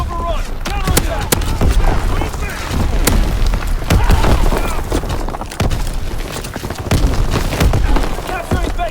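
Incoming enemy mortar fire in a WW2 shooter game, with repeated heavy thumps and booms scattered throughout a dense battle soundscape and radio-style voice callouts running over them.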